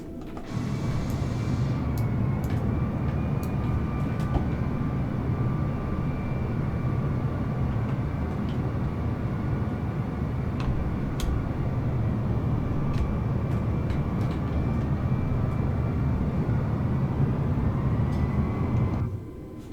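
Airliner jet engines at a busy airport in Microsoft Flight Simulator 2020, with a Delta A320neo on the ground: a steady, loud, dense roar holding evenly with a faint high whine on top, then cutting off near the end.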